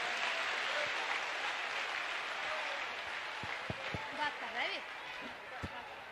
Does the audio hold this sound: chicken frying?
no